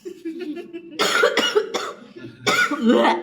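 A voice imitates a whooping cough, with sharp hacking bursts separated by drawn, wheezy intakes of breath.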